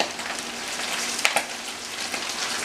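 Onion frying in bacon fat for frijoles charros gives a steady, close sizzle with a crackly hiss throughout, and a couple of brief sharp pops near the middle.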